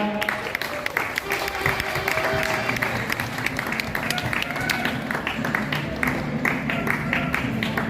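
An audience at a youth sepak takraw singles match applauds the referees as they are welcomed onto the court, a steady patter of clapping that runs throughout under an announcer's voice on the public address.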